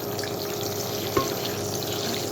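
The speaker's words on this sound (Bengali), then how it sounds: "তো ডিম ভুনার জন্য আগে ডিমটা ভেজে নেব।" An egg frying in a pan, a close, steady hissing sizzle throughout with one brief clink partway through.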